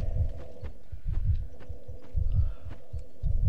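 A heartbeat in the video game Dark Souls II: deep, close, muffled double thumps repeating at a steady rhythm about once a second over a low ambient hum.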